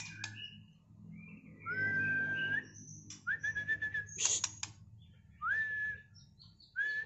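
A songbird at a bird agent's stock cage gives repeated clear whistled calls, short rising notes and chirps in bursts separated by pauses, fairly close over a low background hum.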